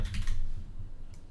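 Close, quick keystrokes on a computer keyboard as a short name is typed into a server's network configuration dialog, a brief burst of clicks that fades into quiet room tone.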